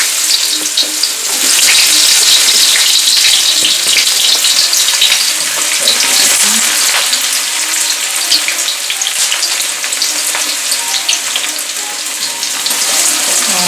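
Garlic cloves sizzle steadily in a hot pan as they are stirred for a chicken nugget sauce, a loud, dense frying hiss with scattered crackles running throughout without pause.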